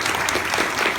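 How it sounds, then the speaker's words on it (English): Audience applause for a guest at a question-and-answer event, loud close clapping from a room full of people, dense and sustained across the moment with no speech heard over it. "a round of applause for Mrs. Chase"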